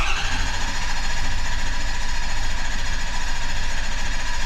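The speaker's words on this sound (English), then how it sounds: "Now it wants us to crank the engine until the test is complete." A Ford Super Duty engine cranks steadily on the starter during a compression test, a continuous rapid mechanical chugging with a whirring drone, close and even in level for several seconds.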